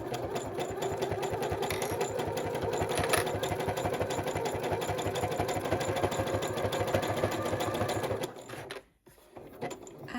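A sewing machine back-stitches a fabric edge with a steady, rapid mechanical chatter close by, then stops abruptly near the end before briefly starting again.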